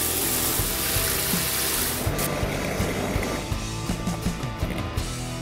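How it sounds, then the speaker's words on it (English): Shower water pouring steadily into a 9-litre bucket, a dense continuous rushing splash heard close, the tone deepening slightly as the bucket fills. "So that's taken us 1 minute to fill a 9-litre bucket."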